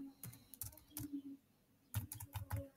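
A password is typed on a computer keyboard in two quick bursts of close, soft key clicks separated by a short pause, quiet and alone.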